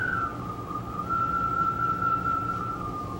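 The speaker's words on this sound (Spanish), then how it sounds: "esto es sencillamente un tubo de lavadora." A washing machine hose swung in circles sings a steady whistling tone, close and continuous, with a low whooshing rumble beneath it.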